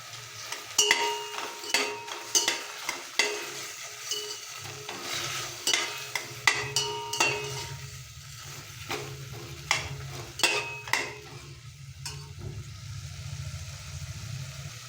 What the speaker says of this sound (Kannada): ನೋಡಿ, ಚೆನ್ನಾಗಿ ಫ್ರೈ ಮಾಡ್ಕೊಂಡಿದ್ದೀನಿ